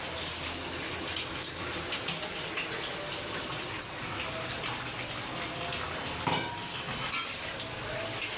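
Chicken curry with masala frying in a pan, giving a steady, dense sizzle and bubbling hiss throughout with a couple of brief clinks of stirring near the end, close up and without talk.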